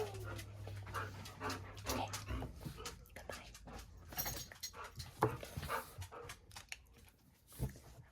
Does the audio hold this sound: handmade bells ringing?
no